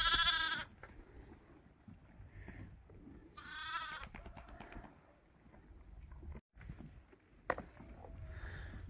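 Sheep bleat a few times, one loud nearby bleat standing out, separated by quiet stretches with soft shuffling and a brief knock as two rams butt heads.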